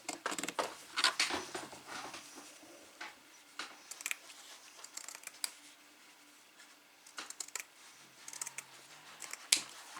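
Scissors snip through paper while trimming loose threads on a handmade scrapbook album, a string of quiet, close, irregular cuts with brief rustles and pauses between them.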